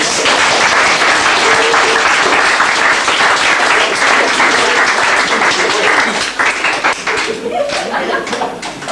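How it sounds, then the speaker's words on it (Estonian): A crowd at a skate event's closing party applauds loudly and steadily for several seconds, a dense wash of clapping that thins slightly toward the end. "nüüd siis on veel üks suur aplaus kõigile meile ja Stahvidele."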